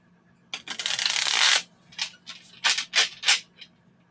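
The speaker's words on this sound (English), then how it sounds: "These little cards I love so much because they're so much easier to shuffle." Small tarot cards shuffled by hand at close range, a long continuous riffle followed by several short separate bursts of card flicks, crisp and fairly loud with no talking.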